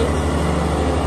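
A Kubota BX2350D 4x4 diesel tractor with a front end loader runs with its PTO engaged, giving a steady, close, low-pitched engine drone without a break.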